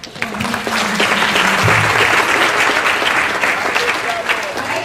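Loud, dense audience applause fills a youth parliament chamber, steady and sustained throughout, with a voice speaking faintly under it near the start.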